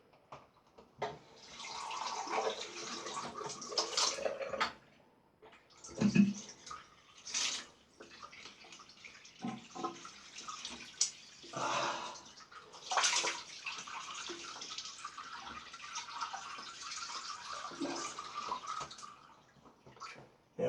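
Cold water runs from a tap into a basin for a rinse after a straight razor shave, gurgling and splashing in uneven bursts with brief pauses, fairly quiet and close.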